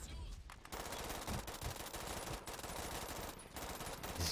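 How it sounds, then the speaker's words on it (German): Mounted gun emplacement firing in the video game Brink, a sustained rapid stream of heavy automatic fire, loud and close, with brief pauses between bursts. "Dieses Geschütz, ne?"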